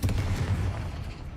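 Blasting spell impacts in the Hogwarts Legacy video game, a dense, loud run of booming, gunfire-like bursts with heavy low rumble, heard alone with no voices.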